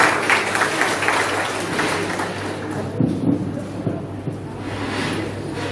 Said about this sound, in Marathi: जोरदार टाळ्या रावसाहेब काळे सरांचं